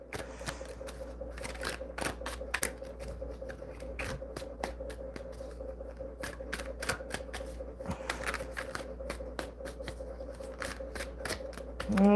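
Cards are shuffled for a medium reading in a steady run of crisp riffling clicks and snaps, close and fairly quiet, continuing for several seconds with no talk over them.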